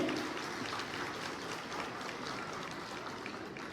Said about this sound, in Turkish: Kendisine bir alkış alabilir miyim öncelikle Esnaf Odaları Birliği Başkanımıza?